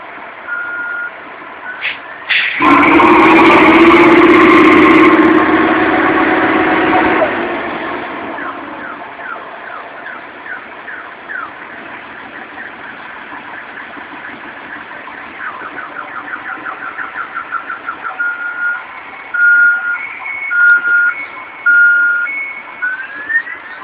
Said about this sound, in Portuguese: Aqui um caminhão amarrado na frente de outro caminhão lá